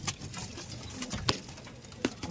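Giribaj pigeons in a loft coo softly in the background, broken by several sharp knocks and clatters from the birds moving about.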